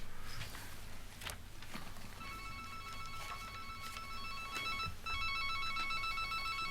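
A cell phone rings in a meeting room with a repeating electronic ringtone at moderate level over a steady room hum. The ring starts a couple of seconds in and carries on, and no one speaks.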